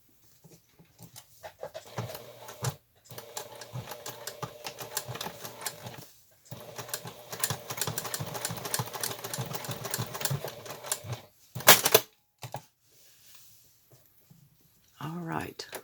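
A sewing machine stitches a quilt block into a hot pad in short, rapid mechanical runs separated by pauses, with a person talking over and between the bursts.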